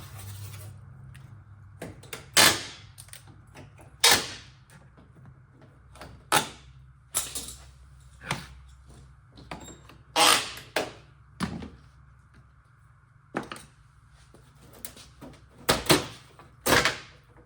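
A simple nail puller prying staples from the door jamb of a vintage trailer, giving a series of sharp snaps and metallic clicks spaced irregularly over quiet background, close and alone.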